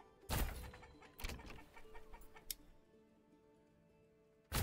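Chickens cluck in the medieval city-building game Manor Lords, a few short bursts of clucking followed by quieter ticking sounds.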